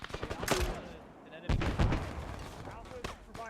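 Rifle fire during a military field training exercise cracks in several sharp bursts at close and middle distance, overlapping with shouted radio-style commands.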